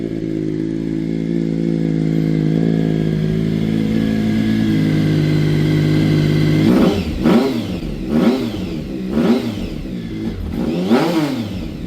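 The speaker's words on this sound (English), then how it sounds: "decided to leave the baffles out of them to make it sound even better." Triumph Speed Triple motorcycle engine with unbaffled aftermarket mufflers, idling with a steady loud rumble before breaking into a series of about five sharp, loud revs rising and falling, close by and with no voices.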